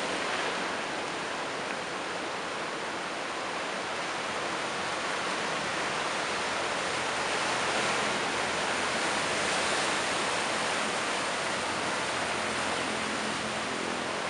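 Ocean surf rolls in at Pelabuhan Ratu beach in Sukabumi early in the morning, a continuous broad wash of breaking waves that stays steady and full for the whole span, with no voices.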